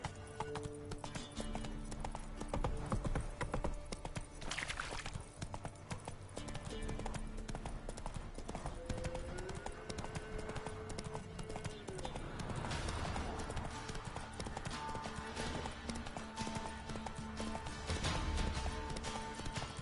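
Roach, a horse in The Witcher 3 video game, galloping with rapid, steady hoofbeats throughout, brief whinny-like tones and faint game sounds layered underneath.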